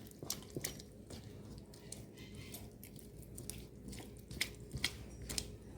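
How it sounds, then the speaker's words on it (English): Pigeon pea batter being mixed with water into a smooth, thick paste for pholourie: soft, close, irregular wet squelches and sloshing taps, fairly quiet throughout. "you're going to mix everything together to a smooth paste"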